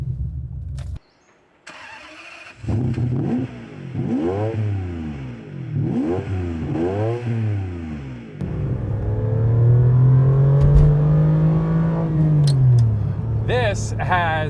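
A Ferrari 550 Maranello V12 with a six-speed and an aftermarket exhaust starts and pulls away, its engine rising and falling through several throaty revs, then settling into a deep steady burble as the car drives.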